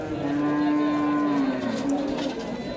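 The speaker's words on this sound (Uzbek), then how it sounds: "Mana mollar obzor qilamiz" Cattle low with a long, drawn-out moo close by at a busy livestock market in Namangan, with a second shorter call following amid a constant crowd murmur in the background.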